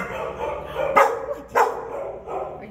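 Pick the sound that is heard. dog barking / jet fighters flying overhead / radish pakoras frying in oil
dog barking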